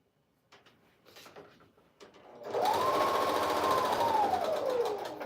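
Sewing machine joining small multicolored strips into a scrappy quilt border: a soft handling sound leads into a sustained, steady run of stitching that speeds up and then slows near the end, close and loud.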